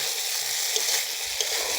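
Eggs being sautéed in a pan for egg kosha, giving a steady, close, even sizzle with a couple of faint clicks and no voices.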